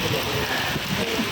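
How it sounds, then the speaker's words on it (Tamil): Heavy rain pours down at the Tiruchendur temple, a dense, steady hiss of downpour with a faint low rumble beneath and no voices. "அபரிமிதமான மழைங்க திருச்செந்தூர் கோவிலில், அபரிமிதமான மழை"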